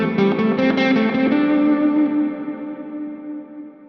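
Electric guitar through a Line 6 Helix with reverb at half mix: a loud distorted chord strummed a few times, then left ringing as an even blend of dry tone and reverb wash that slowly decays.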